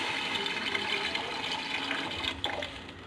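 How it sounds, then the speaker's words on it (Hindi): Water pours steadily into a large pot holding rice and potatoes for pulao, a continuous close splashing rush that holds for a few seconds and then eases slightly. "तो अब हम इसमें पानी ऐड करेंगे।"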